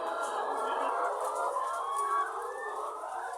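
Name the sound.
layer hens clucking on egg farm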